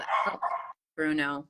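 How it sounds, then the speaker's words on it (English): A pet dog named Bruno lets out a short yelp or bark close by, following a woman's brief spoken exclamation indoors. "sorry, that's my dog."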